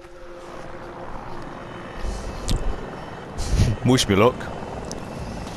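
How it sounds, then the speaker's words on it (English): A Mi-24 Super Hind helicopter in a video game drones with a steady engine and rotor hum, and a few louder bursts rise over it. Someone speaks briefly over the noise. "I'm jumping in an MI-240C behind."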